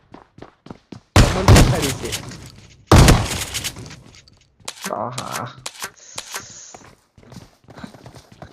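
Shotgun blasts in a video game, two loud close booms with crackling tails followed by smaller shots and clicks, while players talk over the action.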